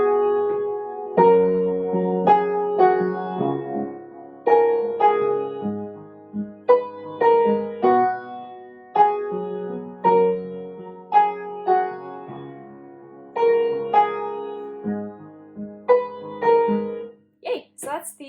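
Piano plays the chorus melody of a worship song at a fast tempo, with both hands sounding close and clear and separated by short gaps. It is played alone, with no talk.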